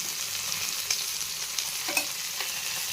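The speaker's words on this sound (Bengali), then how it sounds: "চিকেনটা ভালো করে উল্টে পাল্টে দু সাইড লাল লাল করে আমরা ভেজে নিয়েছি" Chicken pieces for Afghani chicken fry in a pan with a steady, close hiss and sizzle, stirred and turned now and then, with a few brief crackles and no voices.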